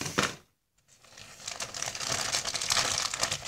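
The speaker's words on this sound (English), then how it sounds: "M&M wrapper." An M&M candy wrapper crinkles close to the microphone: a quick crackle, a brief pause, then sustained crisp crinkling that grows denser toward the end, with no voices.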